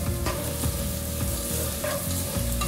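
Onions sauté in a pan for lasagna, sizzling and crackling steadily with a few soft stirring scrapes, close and alone with no talking.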